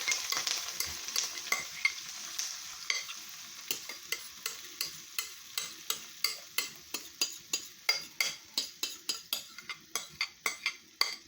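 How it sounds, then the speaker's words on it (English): Belly pork and brown stew ingredients frying in a pan, with a utensil scraping and stirring in a steady rhythm of sharp clicks over a constant sizzle, close and moderately loud, no talking. "I'm going to add all this into my frying pan."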